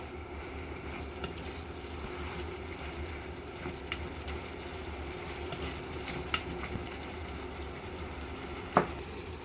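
Boiled taro stolons are stirred into frying masala in a pan, producing a soft steady sizzle with occasional scrapes and clinks of a spoon, close and quiet with no talk.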